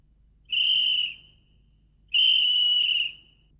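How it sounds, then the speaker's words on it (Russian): A genuine Soviet police whistle sounds two long, piercing shrill blasts, each lasting about half a second to a second, close and loud with a short pause between. "Такие свистки ведь не продаются. Да это настоящий, милиционерский."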